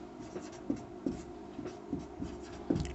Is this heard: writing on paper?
yes